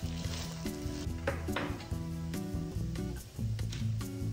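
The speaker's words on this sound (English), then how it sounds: "Fry potatoes until brown." Potatoes fry in a pan with a steady close sizzle, broken by occasional clinks and stirring scrapes against the pan.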